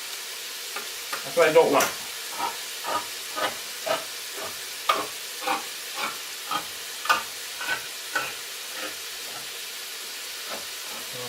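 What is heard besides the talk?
garlic frying in pan for marinara sauce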